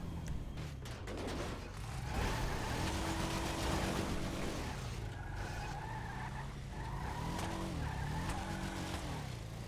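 A modded car in GTA skids repeatedly, tires squealing in drawn-out wavering screeches over a rumbling engine, loud and close, with several separate slides across the stretch.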